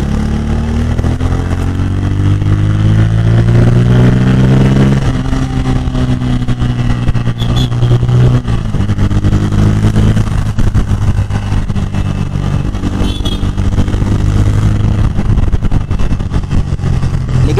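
A 2024 Bajaj Pulsar N160 motorcycle engine runs loud and close during city riding, its pitch rising and falling through revs and gear changes over constant wind and road noise.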